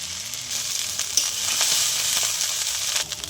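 Cooked rice with soybean chunks and paneer is stirred in a hot pan, a steady bright sizzle with scraping strokes of the spoon running throughout, close and fairly loud, with no talk.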